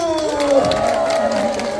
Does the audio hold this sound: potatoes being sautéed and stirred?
no